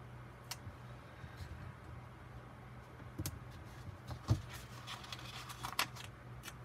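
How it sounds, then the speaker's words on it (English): Scissors cutting paper strips for a planner, faint scattered snips and light ticks spread over a quiet background hum. "I cut some of them to make them a little bit shorter so they're staggered."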